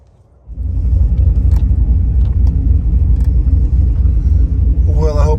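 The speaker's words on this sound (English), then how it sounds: "we gotta get over there and fire this truck up" A truck engine fires up and settles into a loud, steady low rumbling idle that holds for several seconds after a brief quiet moment, with light clinks and a short voice near the end.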